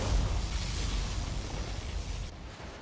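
A particle cannon fires in C&C Generals Zero Hour, a sustained, loud, rumbling energy blast with dense low boom that holds steady for nearly three seconds before cutting off abruptly.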